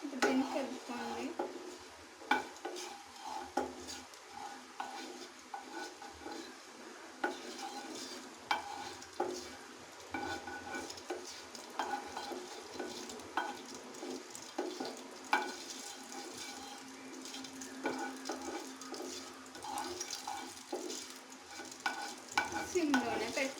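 Food being stirred in a sizzling pan during home cooking, with irregular scraping and clinking strokes over a continuous soft frying hiss, fairly quiet throughout.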